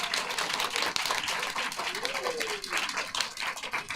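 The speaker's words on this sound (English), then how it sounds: "So big round of applause for Mr. Spurgis." Audience claps steadily for the music director at a first grade school musical, a continuous patter of many hands, with a voice briefly heard over it.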